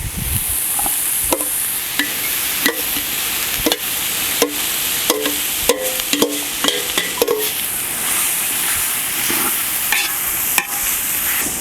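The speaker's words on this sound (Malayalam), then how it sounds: "ഇനി ഇതിലേക്ക് നമുക്ക് ബീൻസും കൂടെ ഒന്ന് ഇട്ട് കൊടുക്കാം ഇനി നമുക്ക് ചിക്കൻ ഒന്ന് ഇട്ട് കൊടുക്കാം" Chicken and beans frying in a pan for a Russian chicken kebab, a steady close sizzle broken by irregular sharp clacks of a spatula against the pan as it is stirred, with no talk.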